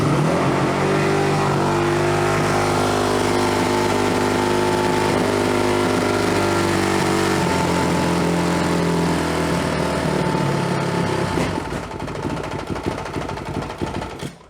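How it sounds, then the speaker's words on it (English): A carbureted small engine running lean idles high with a steady buzzing drone for several seconds, then falters and drops away toward stalling, ending in rough sputters close by. "See how it idles way high and then all of a sudden it goes wrong, down to nothing?"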